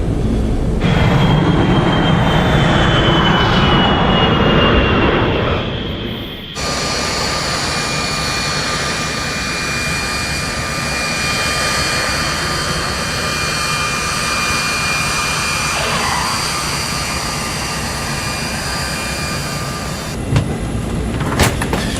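Airliner jet engines run on the airport tarmac while the plane waits, unable to approach the terminal. A loud, continuous roar holds steady throughout, with a brief shift in tone partway through and no talk.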